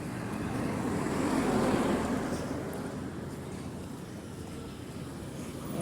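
Buses and other road traffic pass along a roadside on a hot, sunny day, giving a steady broadband rumble that swells and then eases off slightly, with no voices.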